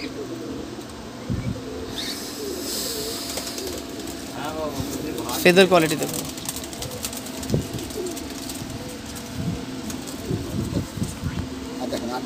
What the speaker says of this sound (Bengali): দাদার বাড়িতে আরেকটি বাচ্চা পায়রা দেখুন